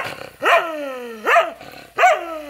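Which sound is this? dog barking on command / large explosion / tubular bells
dog barking on command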